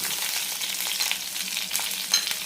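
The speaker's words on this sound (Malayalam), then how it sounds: "നന്നായി വഴറ്റാം സവാള ട്രാൻസ്പാരൻ്റ് ആകുന്നവരെ വഴറ്റിയെടുക്കണം" Onion, garlic, chili and curry leaves being sautéed for a horse gram chutney give a loud, close sizzle with brief stirring scrapes, alone and with no speech.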